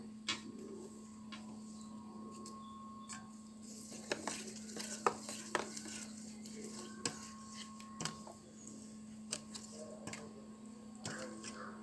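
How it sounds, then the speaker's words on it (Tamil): Loose wheat batter with drumstick leaves being mixed in a bowl, soft scraping and stirring with a few light clinks over a steady low hum, faint and close with no talk. "அரைச்சி வச்ச மாவை இந்த அளவுக்கு லூஸாக கலக்கிக்கலாம்"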